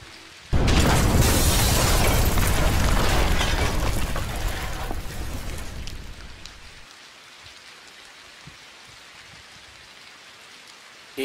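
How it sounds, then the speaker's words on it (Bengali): A building collapses as a film sound effect: a sudden loud roaring crash of rubble and debris runs for several seconds, then thins out into a faint settling rumble. "এইমাত্র পাওয়া খবর অনুযায়ী উত্তর কলকাতার একটি মেস বাড়ি ভেঙে পড়েছে"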